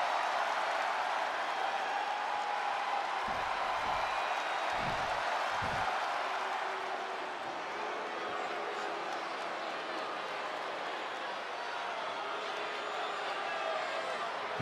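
Wrestling arena crowd at a WWE main event, a dense, sustained roar of cheering and applause that stays loud and steady throughout, with a few low thuds early on.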